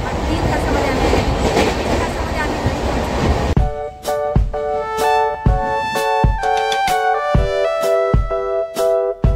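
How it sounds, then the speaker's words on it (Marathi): A local train rushes past at a busy Indian railway station with a loud, steady rumble, then gives way to sustained tonal horn blasts and clanking, close and prominent. "एक लोकल ट्रेन इकडून जात आहे आणि एक इकडून जाण्यासाठी तयार आहे"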